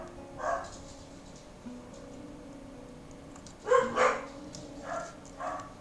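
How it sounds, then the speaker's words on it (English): Dogs barking and yapping in a Dwarf Fortress colony, a few scattered bursts of moderate yaps over a quiet background, with a louder cluster of barks near the end. "They yap and they rough at the smallest little disturbance."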